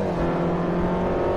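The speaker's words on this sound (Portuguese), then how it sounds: "Olha o som do motor." Japanese race car in Forza Motorsport 4 roaring steadily after a strong launch, a loud continuous engine drone held at high revs throughout the short moment.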